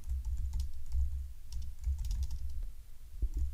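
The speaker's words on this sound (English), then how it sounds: "my typing is surprisingly well today" Steady typing on a computer keyboard, with soft, irregular key clicks in quick bursts under a low background hum, close and moderately quiet, no voices.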